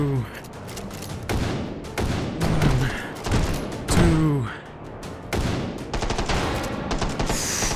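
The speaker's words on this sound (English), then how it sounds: "Two shots. One, two," Gunfire from the VR shooter Hot Dogs, Horseshoes & Hand Grenades, played on an HTC Vive: loud, close shots and bursts spread across the clip, with mechanical clicks and someone talking between them.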